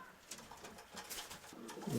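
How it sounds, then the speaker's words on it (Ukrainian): Pigeons coo softly in a dovecote, a few low murmuring calls rising and falling close by over a faint rustling background, with no talking. "Моя голубочка."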